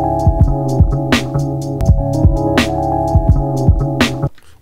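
A looped beat plays through a sampler in hi-fi mode, steady drum hits over droning harmonic chords, with a slight crunchy edge of distortion, cutting off abruptly near the end.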